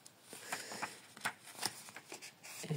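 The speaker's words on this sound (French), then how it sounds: "Après avoir battu et coupé les cartes de la main gauche ou droite si vous le ressentez" Oracle cards being shuffled and cut by hand, a soft run of papery riffles and slaps in close, quiet succession with no voices.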